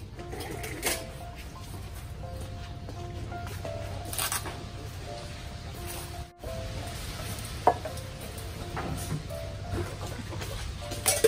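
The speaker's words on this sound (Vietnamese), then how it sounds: "Giờ mình đổ dầu lên ha, chiên cái thứ hai." Oil heats in a pan for a Mekong Delta bánh xèo pancake, giving a steady, close sizzle with scattered clinks and small knocks of cookware, and no talking.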